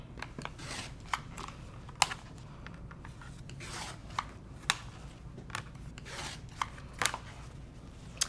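Quilt fabric being cut into 6.5-inch squares along seam lines, heard as scattered sharp clicks and snips at an uneven pace over a low steady hum, with no talking.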